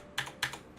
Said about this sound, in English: MX blue switches, as you can hear there